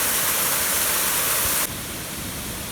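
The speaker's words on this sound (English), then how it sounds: "I would estimate that it's probably at least a 15-foot waterfall." A waterfall of about fifteen feet with a good flow pours into a small rocky gorge near Glasgow, Virginia. It makes a steady, loud broadband rush with no voices, and it drops abruptly to a softer level partway through.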